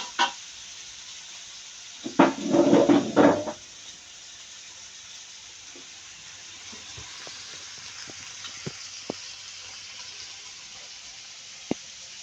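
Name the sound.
two eggs stir-frying in a pan for fried rice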